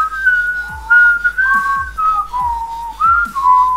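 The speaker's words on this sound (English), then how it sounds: "whistling to accompany it" Someone whistles a melodic tune, clear and close, with sliding pitched phrases broken by brief breaths, during casual play of a GTA 5 water bomb challenge.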